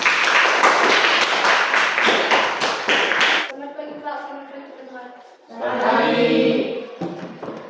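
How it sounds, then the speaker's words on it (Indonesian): A classroom group breaks into a burst of rhythmic hand clapping for a student presenter, loud and close for a few seconds, then the clapping stops and a single voice starts speaking. "Dan kita tepuk tangan."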